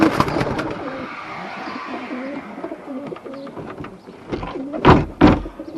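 Breeding birds in an aviary coo softly in a low repeated pattern, close by, followed near the end by a couple of louder rattling thumps like a door or cage moving.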